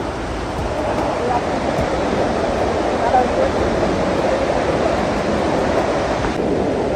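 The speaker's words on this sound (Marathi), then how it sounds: "या साईडला खूप साऱ्या मोठा नदीचा प्रवाह आहे" Rushing water from Devkund waterfall and a large river flowing nearby, a steady, loud, broadband roar that stays continuous and unbroken throughout.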